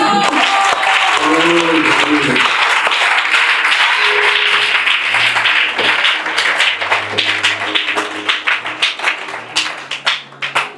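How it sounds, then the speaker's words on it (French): A crowd at a religious gathering applauds and cheers in acclaim of Jesus, loud and sustained at first, then thinning into separate rhythmic claps while voices call out over it. "on acclame Jésus."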